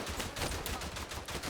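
A Lewis gun machine gun firing in the World War I shooter game Verdun, a continuous rapid stream of shots held on the trigger, loud and close with no talk.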